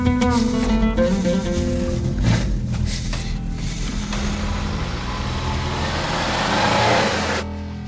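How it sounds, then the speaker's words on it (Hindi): A car engine revs and pulls away, a mid-pitched rumble rising then settling as the vehicle drives off, loud and close, ending abruptly near the end. "चलो चलाओ गाड़ी।"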